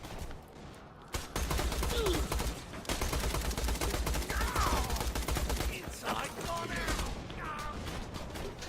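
Gunfire in the video game Borderlands: The Pre-Sequel, sustained rapid automatic shots in a loud continuous fusillade with brief gaps, under occasional in-game effects.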